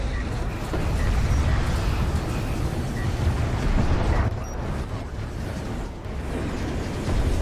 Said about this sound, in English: Barrages are coming in from these artillery cruisers.